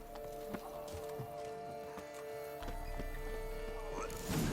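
Roach, Geralt's horse in The Witcher 3, galloping at speed in the Toussaint vineyards, with steady rhythmic hoofbeats over a constant game music and ambience bed, growing slightly louder near the end.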